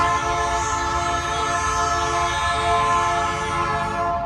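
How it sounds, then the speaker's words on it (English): A train on the Ferrocarril de Cuernavaca in Mexico City rumbles steadily past close by, a dense continuous roar with sustained tonal whine throughout, no voices. "you can already see the train"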